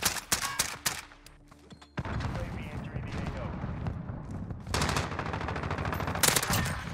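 Rapid bursts of AS VAL rifle fire in a video game with an attachment fitted, loud, dense repeated volleys that start, pause briefly, then resume in long sustained strings, with mixed game effects around them.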